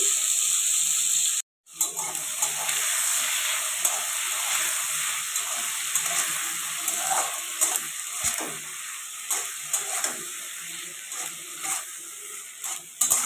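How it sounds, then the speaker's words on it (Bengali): Prawns frying lightly in oil in a pan, a steady close hiss and sizzle with occasional stirring clicks, briefly cut off near the start and then continuing unbroken. "তো চিংড়ি মাছগুলো দিয়ে ভালো করে একটু ভাজা করে নিতে হবে, খুব বেশি ভাজার দরকার নেই।"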